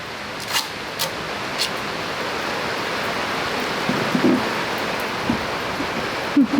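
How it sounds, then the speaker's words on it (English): Torrential rain pours down on a sailboat as Cyclone Jasper nears Cairns, a dense, loud, unbroken hiss of heavy drops with a few louder knocks and taps against the boat. "Getting torrential downpours every 5 minutes"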